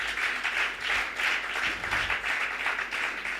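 Congregation applauding during a French-language church service, a soft, continuous patter of many hands clapping at a distance, swelling in slight waves, with no voices over it.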